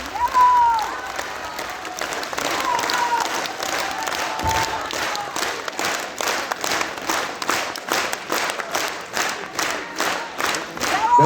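A concert audience applauds a folk dance ensemble, with loud sustained clapping and some cheering that settles into rhythmic, in-time clapping, while an announcer's voice is heard over it early on.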